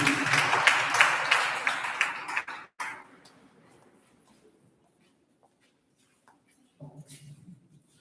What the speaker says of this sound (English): Clap for them, everyone.